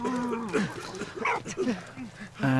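A dog in the World War I video game Valiant Hearts at Ypres gives a series of short barks and whimpering yips, several close calls spread through the clip over a quiet game background.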